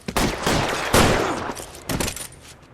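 Gunfire in a street shootout from the video game L.A. Noire, loud repeated bursts of shots with sharp onsets around one second and two seconds, echoing between volleys.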